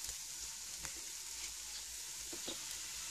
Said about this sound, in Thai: ผัดหน่อไม้ฝรั่งใส่หมูสามชั้นนะคะให้ถึงแซ่บง่ายๆ